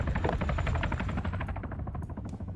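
A military helicopter in the video game Arma 3 beats loudly overhead, its rotor producing a fast, steady thumping pulse with a turbine whine underneath, sustained and close throughout.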